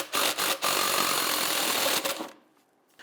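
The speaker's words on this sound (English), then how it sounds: "Using a 15mm socket, let's loosen and remove the center nut here" A 15mm socket works loose the centre nut of a rear shock on a Dodge Charger, a dense rapid ratcheting buzz that runs for about two seconds and then stops.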